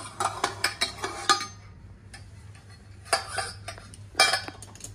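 A hot steel vessel of lemon pickle being lifted out of an opened pressure cooker, with a burst of close metallic clinks and scrapes, a quieter pause, then further clanks of metal against metal.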